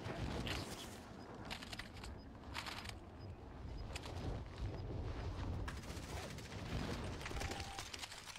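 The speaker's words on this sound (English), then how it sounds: "Someone sniped at me from that way." Gunfire in the Warzone video game, a sniper shot among a dense barrage of blasts and booms, loud and continuous across the clip with no talk.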